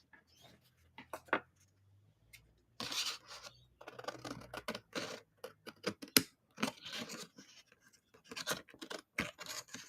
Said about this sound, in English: So what we're going to do is we're going to cut this out.